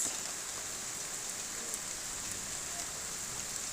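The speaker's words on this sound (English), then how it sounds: "this is the sound of the rain coming down" Rain falls steadily outside during a home birthday gathering, a soft, even and continuous hiss at a moderate distance with no voices over it.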